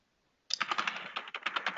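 A burst of fast typing on a computer keyboard starts after a brief silence, a dense run of close, clicky keystrokes.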